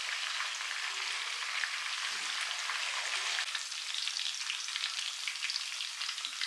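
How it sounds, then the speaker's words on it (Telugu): Chicken pieces for Chicken 65 frying in hot oil, a steady bright sizzle and crackle throughout with no talking. "అటు సైడ్ ఇటు సైడ్ తిప్పుకుంటూ మంచిగా ఫ్రై చేసుకోండి ఒక 10 నిమిషాల వరకు"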